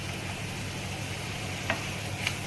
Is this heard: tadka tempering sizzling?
yes